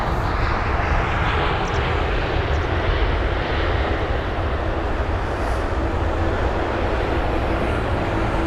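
A Turkish Airlines Airbus A330 jet at London Heathrow, its engines giving a sustained, loud roar that holds steady throughout without any voices.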